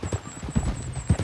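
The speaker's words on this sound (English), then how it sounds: "Get on your horse." Horse hooves clip-clop in Red Dead Redemption 2, a steady close trot of rhythmic thuds running through the whole moment with faint background ambience.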